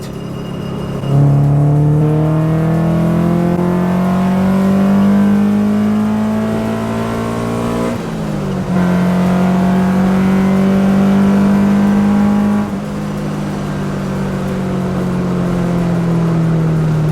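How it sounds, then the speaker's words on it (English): A Honda Civic engine revs up into VTEC with rising, whining harmonics, drops briefly, then climbs again in a long sustained pull, loud and close with no talking. "that VTEC sound still doesn't get old to me"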